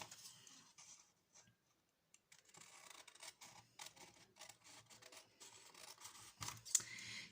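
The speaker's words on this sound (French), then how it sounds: "je vais découper mes grands triangles" Scissors cut through large sheets of paper for origami triangles, giving quiet, intermittent snips and rustles with short gaps between cuts, close by and with no talking.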